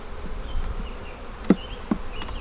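Honeybees hum and buzz steadily around an opened hive in a farm bee yard, close and continuous, with a couple of faint knocks from hive parts and no voices.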